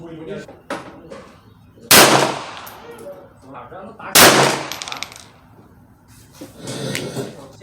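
Two sharp, loud gunshots from a .22LR Ruger Mark III semi-automatic pistol with a scope, firing SK High Velocity ammunition at a 50-yard outdoor range, spaced a couple of seconds apart, with quiet talk between them.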